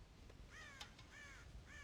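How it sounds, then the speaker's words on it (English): Crows cawing in the Red Dead Redemption video game around a farm silo, several harsh, fairly close caws in quick succession over a steady noisy outdoor background. "God damn crows!"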